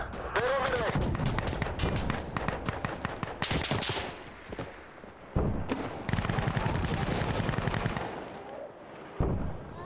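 Rapid automatic gunfire in the shooter Warzone, dense close bursts running almost continuously for several seconds with a few sharp single shots, while players talk over the action.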